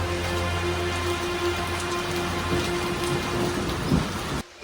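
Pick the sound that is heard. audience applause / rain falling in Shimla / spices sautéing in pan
rain falling in Shimla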